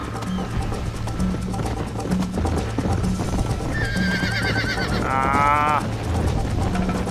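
A horse in Red Dead Redemption whinnies loudly with a wavering neigh while clip-clopping hooves and game sounds continue underneath, and a voice breaks in briefly.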